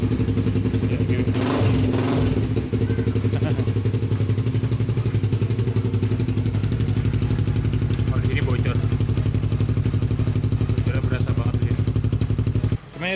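A Suzuki GSX-R150 motorcycle runs with a leaking Akrapovic replica exhaust and DP killer fitted, its steady, loud engine drone filling the whole recording, with clattering knocks early on and faint voices underneath.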